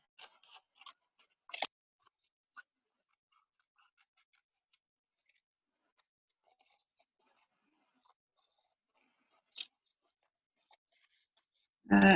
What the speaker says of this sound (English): just draw them how you want them and then cut that shape out